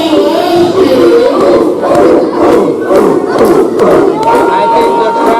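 A wrestling crowd at an Absolute Pro Wrestling show shouts and cheers loudly and continuously, with rhythmic chanting swells throughout.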